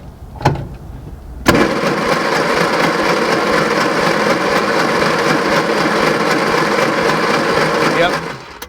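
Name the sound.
car engine cranking at full throttle during compression test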